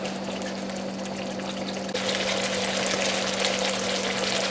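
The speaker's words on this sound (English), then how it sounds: "We'll just give this a good stir around." Red Thai chicken curry with coconut milk and curry paste cooks in a pan over high heat, giving a steady, close sizzling bubble that grows louder and brighter after about two seconds, with no voices.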